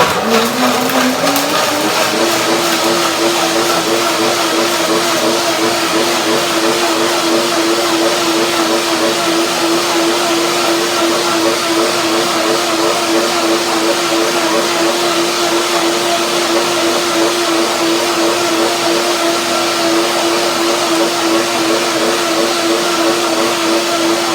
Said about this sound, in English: That is easier for the blender, for the machine to work.